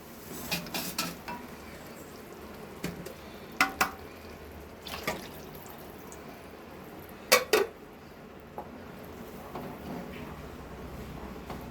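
Water runs and splashes into a mixer jar amid scattered clinks of kitchenware and utensils while cooking tomato kuzhambu, with no talking.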